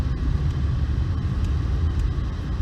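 A Volvo 240 on a test drive after an overdrive repair, its steady low engine and road rumble droning continuously and close throughout, with no talking.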